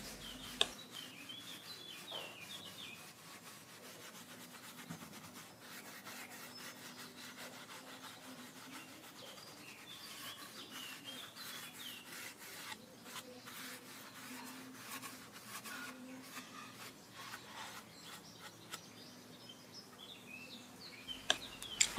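Wood is rubbed with 000 steel wool in a quiet, continuous scratchy scrubbing with faint repeated strokes and a few small knocks.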